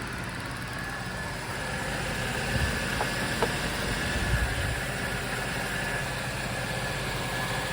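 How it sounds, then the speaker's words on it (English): A Range Rover P38 engine runs at a steady idle, a low continuous hum with faint vibration and a few soft knocks, moderately distant and with no talk. "But the engine runs."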